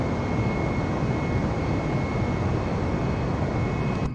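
A Citation Longitude business jet in MS Flight Simulator taking off, its engines giving a loud, steady roar that fills the whole stretch with no voices over it.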